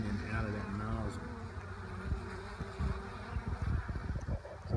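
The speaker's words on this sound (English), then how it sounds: "6 colonies of bees just absolutely wearing this out." A dense, steady buzzing of many honey bees up close at an open feeder, six colonies crowding in and out of its nozzle, with a low rumble and some scattered knocks underneath.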